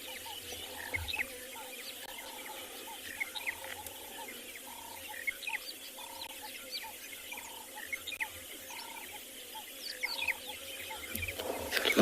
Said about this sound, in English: In the distance we can hear all those wattle starlings, Kalahari scrub robins.